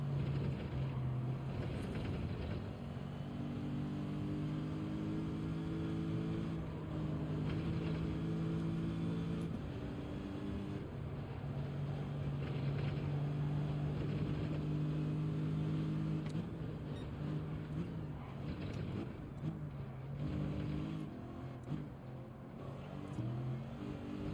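A Toyota Supra racing in Gran Turismo, its engine a steady droning hum with a layered tone that rises and falls with gear changes, carrying on throughout at moderate volume.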